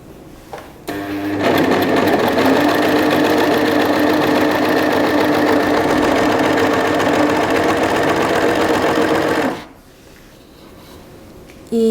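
An overlock serger sews a seam, running at a fast, steady mechanical whir for about eight seconds, close and loud, then stopping abruptly.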